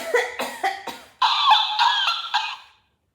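A series of short, light coughs, several quick bursts followed by a slightly longer rasping stretch, close by with no talking.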